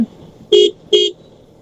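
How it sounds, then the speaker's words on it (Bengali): Two short, loud bus horn blasts on a narrow road, one right after the other, close by with a faint hum of traffic between them. "হচ্ছে বাসগুলো অনেক বেশি হরেন দিচ্ছে"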